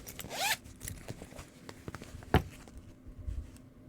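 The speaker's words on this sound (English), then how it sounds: "So here's one of the hot pink zippers, and then the pink zipper, and then the green zipper" A zipper on a fabric project bag zips quickly once, then gives softer handling rustles and a sharp tap, close and fairly quiet.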